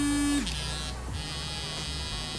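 A Colgate hum smart electric toothbrush runs with a steady, close electric buzz that shifts pitch early on, then continues evenly as its modes change.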